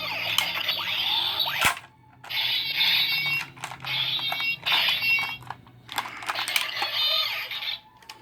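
A Power Rangers Samurai sword toy plays its electronic gun-mode sound effects in several bursts of bright, buzzy, crackling tones, close and fairly loud, separated by short silences and a sharp click.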